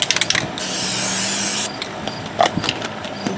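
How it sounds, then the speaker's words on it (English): Aerosol can of Fluid Film sprayed onto a brake rotor hub of a 2003 Chevy Suburban: one steady hissing burst lasting about a second, close up, between light clicks and metallic handling noises. "We'll spray a little fluid film on that guy."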